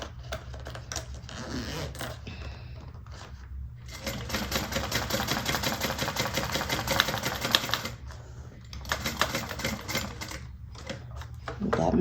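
A home sewing machine stitches through thick layers of a handmade bag, running in steady rapid bursts with short pauses between runs, close and fairly loud, with no talking over it.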